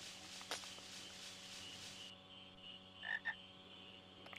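Frogs croak in a marsh area of the video game Final Fantasy IX, a steady low ambient chorus with a couple of sharper, louder calls near the end, and no one talking.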